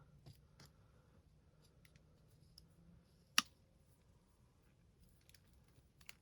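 Pruning cut through a large dawn redwood taproot during repotting: a single sharp snap stands out over quiet background, with a few faint clicks and rustles around it.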